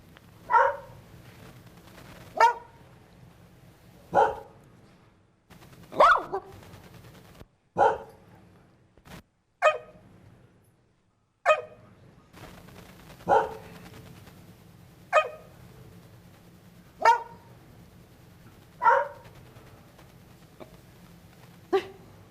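A hellhound sound effect for a fantasy tabletop game: about a dozen loud, sharp dog-like barks, spaced evenly every couple of seconds, alone over a faint low hum.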